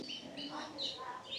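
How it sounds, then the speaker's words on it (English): Birds in a bird sanctuary give faint, high chirps during a drizzle, several short calls spread over a moment above a soft, steady background hiss. "I think I figured out where the bird noises are coming from"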